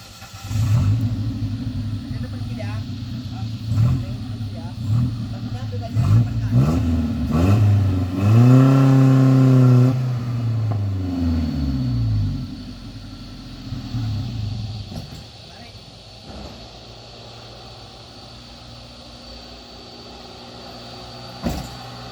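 Suzuki Carry pickup truck hauling a 2.4-ton load of watermelons, its engine revving hard and labouring up a steep, extreme incline, loud and close with a rising then falling pitch before the strain fades out.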